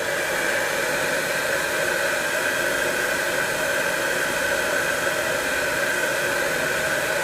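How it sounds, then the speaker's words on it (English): A blow dryer drying paint on a model roars in a constant, even whoosh of air, close and steady from start to finish with no talking. "now the air dryer, and let's dry this."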